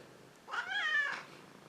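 A cat meows once near a camera tripod, a single drawn-out, fairly quiet call lasting under a second, heard alone in a hushed indoor room.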